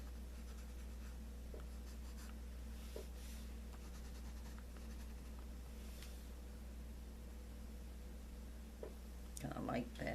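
Colored pencil shades on paper with the side of the lead, a soft continuous scratchy rubbing that is faint and close, with a brief louder rustle near the end.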